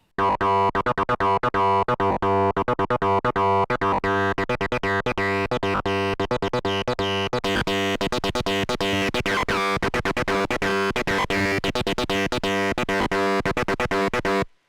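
A loud, growling UDO Super6 synthesizer pushed through heavy fuzz distortion from a Valco Blood Buzz pedal plays a choppy, pulsing line nonstop.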